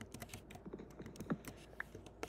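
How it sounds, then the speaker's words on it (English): Rapid, close computer mouse clicks during a Minecraft game, a quiet irregular patter of sharp taps with no talking. "You can probably hear my mouse clicking a lot."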